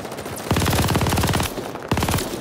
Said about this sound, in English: let me shoot through that wall